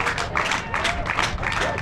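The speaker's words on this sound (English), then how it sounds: "Let's get a round of applause for Malaysia." A crowd applauds the runners-up, Malaysia, at the awards ceremony after the ACC Women's T20 Championship cricket final, with steady, dense clapping throughout.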